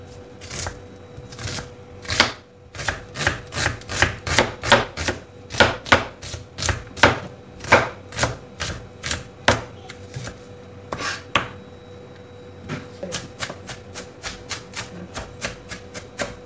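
A knife dices onion on a cutting board for a kinilaw dish, a long run of crisp, rapid chops knocking against the board in quick bursts with a brief pause midway, close and fairly loud.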